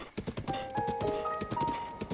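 Hooves of a horse in Zelda: Breath of the Wild clip-clop in a steady galloping rhythm, fairly close, over faint game music with tonal notes.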